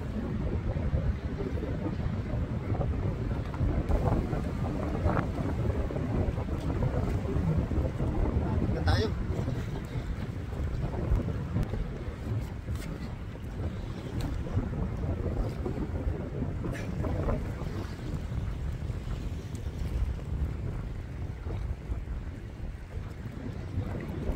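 A small fishing boat on a windy lake, with steady wind buffeting the microphone and water sloshing under the hull, while occasional voices speak over the noise.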